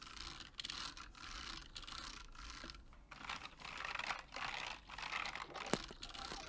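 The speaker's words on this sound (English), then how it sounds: "Here's what it sounds like on the other keyboard." Typing on a computer keyboard with a smooth, somewhat cheap feel, a steady close patter of keystrokes in uneven bursts, quiet and alone.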